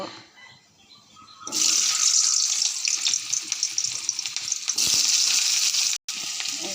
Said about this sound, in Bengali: তেল দিয়ে এবার এই পটলগুলো আলুগুলো ভেজে নেব